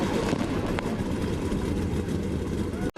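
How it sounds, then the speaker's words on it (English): NASCAR Cup Series stock cars firing their engines before the 2021 season finale race: a dense, loud roar of many big V8s idling together, held steadily, then cutting off abruptly at the end. "Cars, start your engines!"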